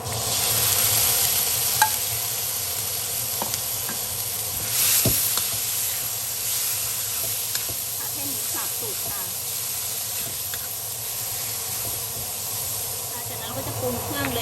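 Minced pork stir-fries in a pan with softened onion and a garlic, coriander root and pepper paste for a bun filling. It sizzles and hisses steadily with occasional spatula scrapes while someone talks.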